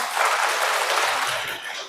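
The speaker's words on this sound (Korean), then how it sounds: "여러분, 남성들에서 박수 한번 쳐주세요." A parish gathering applauds for the men in steady, sustained group clapping that slowly fades, with a faint murmur of voices beneath.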